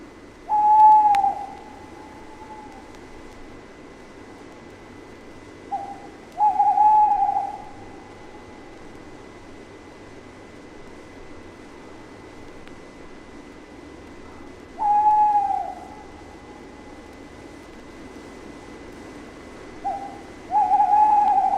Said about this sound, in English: the tawny owls often hold territories, which they proclaim with their hoots